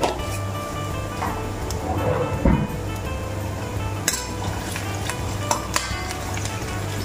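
Cumin seeds fry in a karahi at home, giving a steady low sizzle with occasional sharp clinks of a utensil against the pan.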